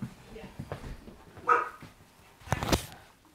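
A dog inside a house barks in two short, muffled bursts a few feet off, under tense shouting and background noise during a sheriff's department visit.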